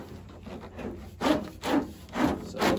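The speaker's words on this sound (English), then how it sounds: "Pulling at the cable down the bottom, feeding through this way." Dual battery cable for an Isuzu D-Max / Holden Colorado tub-mounted Redarc kit being pulled and fed through the truck tub, making rough rubbing and scraping in four steady, close pulls.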